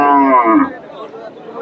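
A cow lows loudly and close at a cattle market, one strong moo falling off within the first second, followed by quieter background noise.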